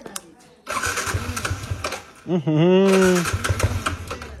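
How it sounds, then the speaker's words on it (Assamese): A motorcycle about three years old is kick-started close by. Its engine catches with a rising roar and then settles into a loud, steady run, with talk and handling noises heard before it fires. "বাইকখন অলপমান কল ষ্টাৰ্ট দি লওঁ"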